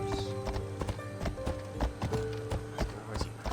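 Horse hooves clip-clop in a quick, steady rhythm in the video game Assassin's Creed Odyssey, close and clear, with a faint tonal hum underneath.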